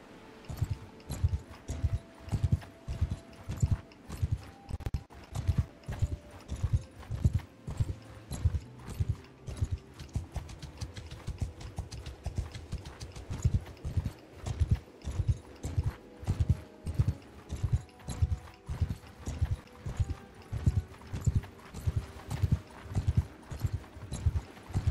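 Horses gallop across the battlefield in Mount & Blade II: Bannerlord, their hooves pounding in a steady, rapid, continuous rhythm of close, heavy thuds that lasts the whole stretch, with faint tonal game sounds underneath.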